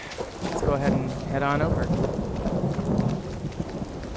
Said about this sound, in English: I love, love, love that lightning effect and the rain.